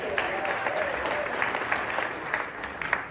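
Attendees at a workshop clap for themselves, a steady dense round of applause with occasional louder individual claps and faint voices underneath.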